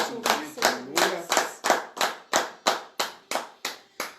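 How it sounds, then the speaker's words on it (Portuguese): A church congregation claps in unison, about a dozen sharp, evenly spaced rhythmic claps close and loud, with a voice briefly over the first few beats. "Dê glória a Deus e aplaudir o Senhor."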